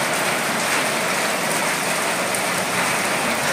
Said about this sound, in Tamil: மழை உங்களுக்கு பார்த்தாலே தெரியும் பெரிய மழையாயிருச்சு